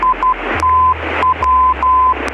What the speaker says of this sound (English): then we had to listen Morse code